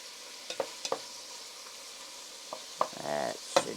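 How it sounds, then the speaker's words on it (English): Beef short ribs, salted and peppered, sear in a pan for a vegetable beef soup, giving a soft sizzle broken by a few sharp stirring clicks and scrapes, with a brief louder hiss near the end. "short ribs seared off"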